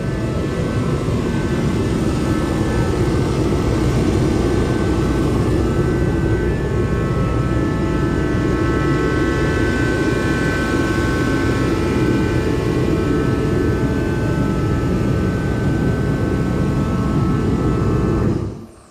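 Workshop heater running loudly in a garage, a steady, dense roaring whoosh with a faint whine over it, holding constant for nearly twenty seconds before cutting off abruptly.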